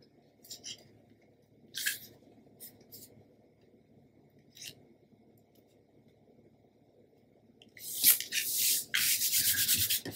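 Patterned paper being trimmed for a Graphic 45 mini album page, heard as short bursts of cutting and rubbing, closing in a louder, steady stretch of scraping strokes, with no talking.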